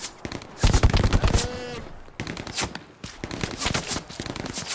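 Rapid bursts of gunfire from the WWII video game Hell Let Loose, during an assault on enemy artillery guns, crackle in loud clustered volleys with short pauses between them, with a shout briefly overlapping.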